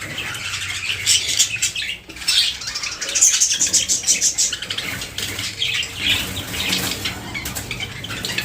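Pet birds flap their wings in bursts as they are caught and moved into a cage, close and loud, with chirps and rustling mixed throughout.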